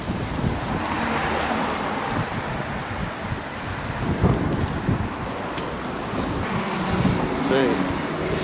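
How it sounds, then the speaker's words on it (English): Wind rustles steadily through a town high street in Larbert, a broad continuous gusty rush that swells slightly in places, with faint scattered background sounds beneath it. "Wind rustling"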